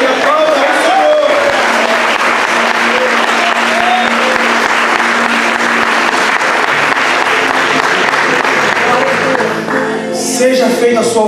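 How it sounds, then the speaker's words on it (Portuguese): Loud, sustained applause from a church congregation fills the space, dense clapping carrying on steadily with voices and music-like tones threaded underneath. "Glorifique e aplauda o Senhor"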